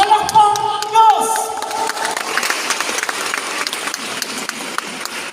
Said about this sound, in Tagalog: palakpak ang Dios